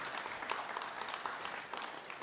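An audience at an economic symposium in Sunyani gives the minister a round of applause, with steady, moderately distant clapping throughout and no one speaking.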